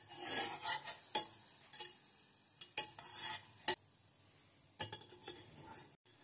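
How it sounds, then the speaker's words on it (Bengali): Small nikuti sweets for sitabhog are stirred through hot frying oil in a pan, with the spatula scraping and clinking in intermittent strokes over a faint sizzle; no talking. "এভাবে নাড়াতে নাড়াতেও কিন্তু ভালোভাবে ভেজে নেওয়া যাবে"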